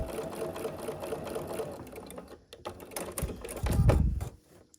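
A sewing machine stitches a diagonal seam across an evergreen tree quilt block in a stitch-and-flip corner, running steadily and close up, then a louder low thump and handling sounds of fabric near the end.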